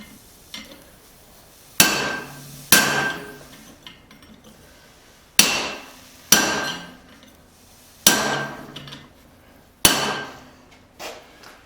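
Heavy hammer blows drive a hot cut chisel through spring steel while forging a fillet knife: about eight loud, ringing metallic strikes in irregular pairs and singles, each decaying quickly, with no talk.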